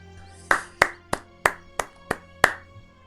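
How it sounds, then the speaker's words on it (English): Seven sharp, distinct hand claps in a quick, slightly uneven rhythm, close and clear over a quiet background. "Give them a clap."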